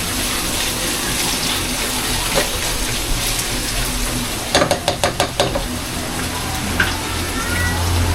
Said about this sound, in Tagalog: Lagyan na natin siya ng toyo at konting tubig.